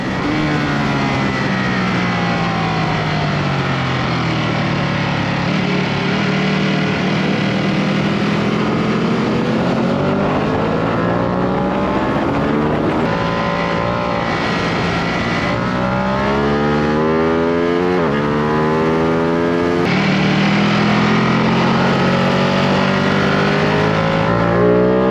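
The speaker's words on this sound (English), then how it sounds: "you're about to see me in a little race with this S1000R on the left." A Ducati Panigale V2 and a BMW S1000R race on a Donington track day, loud high-revving engines rising and falling through repeated gear changes, sustained and close with no talking.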